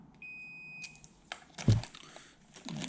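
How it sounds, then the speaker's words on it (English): A thin, high electronic beep from a multimeter's continuity buzzer holds steady for under a second, followed by scraping and handling clicks during work on a BMW K100 motorcycle. A short rustle comes near the end. "So I've got my multimeter set to ohms, and we've got the buzzer."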